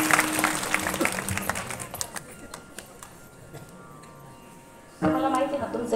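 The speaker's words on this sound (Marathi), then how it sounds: "महिला मंडळ टाळी वाजवा यांच्यासाठी." A women's group at a village gathering clapping, a brief burst of applause that fades into a quieter stretch before another loud burst of clapping returns near the end.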